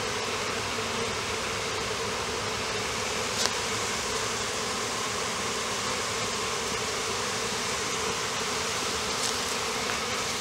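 Honeybees buzz around a hive frame in a dense, steady drone that stays close and constant throughout, with no voices.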